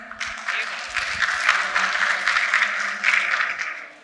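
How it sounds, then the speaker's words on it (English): Audience applause rings out for Frank Fitzgerald, founder of Pax.world, taking the stage at a metaverse keynote event, a steady wash of clapping lasting several seconds with a faint murmur of voices beneath. "Please give him a round of applause."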